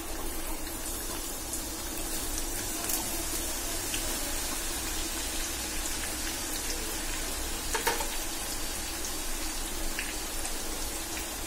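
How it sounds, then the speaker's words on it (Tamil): Chopped onions frying in hot oil in a pan, a continuous dense sizzle with small scattered pops, steady and close throughout, no voices. "இப்போ எண்ணெய் சூடாயிருச்சு இதுல நம்ம கட் பண்ணி வச்ச வெங்காயத்தை சேர்த்துக்கலாம்"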